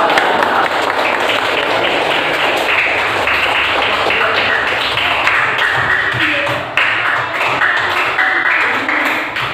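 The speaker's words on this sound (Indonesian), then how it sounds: "Beri tepuk tangan untuk Mbak Tia." Class audience applauding a presenter, loud sustained crowd clapping with some voices mingled in, steady throughout and easing off slightly near the end.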